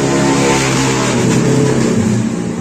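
A motorcycle engine with a broken camshaft bearing revs loudly up close, a rough, throaty mechanical roar that rises and holds with an uneven rattle underneath, with no voices.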